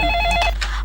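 Telephone ringing indoors, a loud electronic ring with steady tones and short repeated pulses, close and alone.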